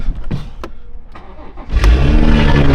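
A wrecked BMW 540i under rebuild cranks with a few clicks and turns, then its engine catches and settles into a loud, close, steady idle rumble.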